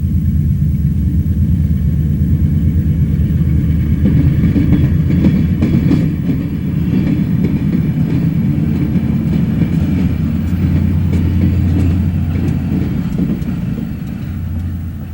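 A long freight train, run by the Indiana Harbor Belt on the B&O Chicago Terminal track at a crossing in McCook, Illinois, rumbles steadily past close by, with low heavy rumble and faint rhythmic clatter of wheels throughout.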